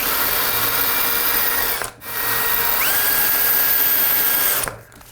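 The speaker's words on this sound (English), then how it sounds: "I'm going to put my drill bit in my tip, and I'm just going to drill while I keep it wet." A power drill bores a hole with a steady, high whine while the bit is kept wet, running in two long bursts with a brief pause between them, loud and close.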